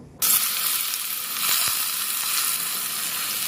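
Chopped onions dropped into hot oil with bay leaf, cardamom and cloves burst into a sudden loud sizzle that then settles into a steady, close crackling hiss, with a stir or two and no voices.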